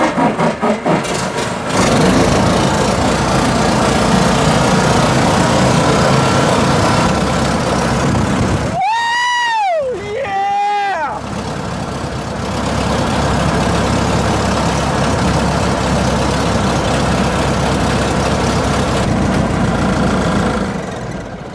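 A stunt plane's propeller engine, long unused, runs at a steady loud idle with a dense, droning roar throughout, briefly broken by two rising and falling whooshing sweeps near the middle before the even idle returns.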